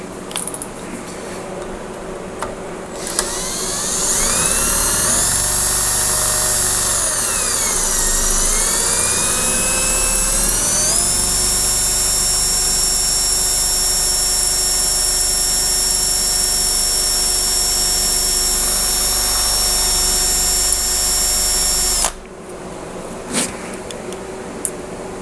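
A power drill spins a Tool Shop titanium twist drill bit in a long continuous whine that lasts close to twenty seconds. The pitch shifts as the bit bears down, then the sound cuts off abruptly.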